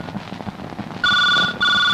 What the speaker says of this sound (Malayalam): നല്ല കാര്യം നടക്കുമ്പോഴാണ് ഫോൺ.